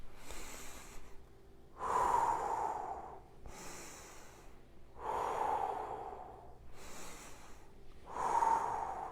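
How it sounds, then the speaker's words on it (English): Slow, deep breathing during a hip internal rotation exercise at home: long audible exhales alternating with quieter inhales, about three breath cycles in an even rhythm, close to the microphone and not covered by any speech. "use your breath, exhaling as you go to one side, inhaling as you come to the middle, exhaling as you go to the other side"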